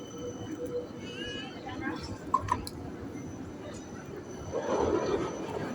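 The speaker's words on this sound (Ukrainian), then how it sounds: "Красунчик, фінський трамвай." Finnish tram passing along a Helsinki street, a low rolling rumble with faint metallic squeals that swells toward the end, while people talk nearby.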